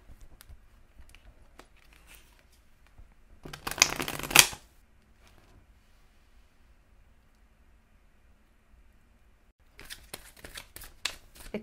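Divine feather oracle cards being shuffled in two bursts, a loud riffling flurry near the start and a second quicker run of shuffles toward the end, separated by near silence with faint handling noises.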